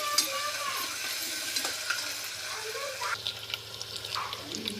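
Cloves, pepper and marathi moggu fry in a pan, giving a soft, steady sizzle close by with a few light stirring scrapes and clinks breaking through.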